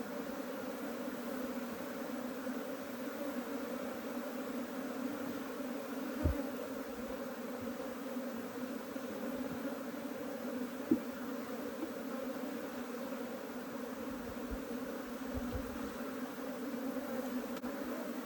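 A steady, dense hum of Africanized honey bees swarming over an opened hive during frame inspection, a continuous droning buzz with a few faint knocks of frames and gear, no talking.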